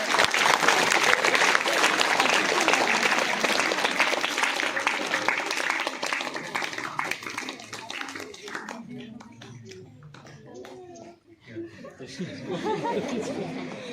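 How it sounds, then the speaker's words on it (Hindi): Children and audience at a school prize distribution applaud loudly, a dense clapping wash that thins out and fades, with chatter and a few chuckles mixed in and voices speaking as it dies down. "तालियां बजाओ इसके लिए"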